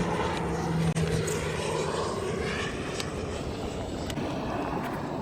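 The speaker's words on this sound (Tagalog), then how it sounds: "Ang gandang aeroplano yun ah" An airplane coming in to land over Manila Bay, heard from a kayak on the water, gives a continuous broad roaring engine drone that stays steady and fairly loud throughout.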